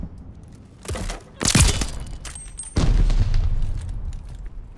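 A flashbang grenade goes off in a Search and Destroy match of a shooter video game, a sharp loud burst followed by a second heavy boom and ringing rumble, with brief clattering between.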